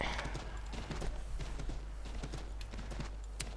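Horse hooves clip-clopping in the video game Assassin's Creed 3, a steady rapid run of hoofbeats over a constant low hum and street ambience, moderately loud throughout.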